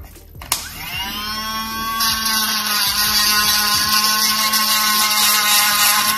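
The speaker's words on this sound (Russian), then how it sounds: "Я беру само кольцо и свою пилялку." A small power file whirring as it cuts out the middle of an epoxy resin ring: a sharp click, then a rising high-pitched motor whine that settles into a steady, loud grinding buzz close by.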